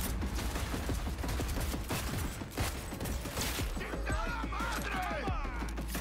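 Rapid gunfire from a gun in the video game Cyberpunk 2077, dense bursts of shots and impacts over game sound, with crashes and mechanical clatter mixed in.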